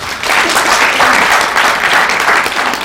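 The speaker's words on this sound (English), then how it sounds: "Let's welcome her with a round of applause." An audience applauds to welcome a speaker, a steady, loud wash of clapping from a large crowd that holds evenly for a few seconds without voices.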